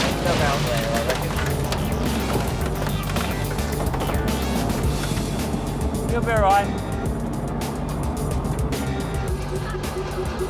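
A tank crushes cars, its engine churning through a dense, loud rumble of grinding and crunching that runs the whole time, while a person speaks briefly over it.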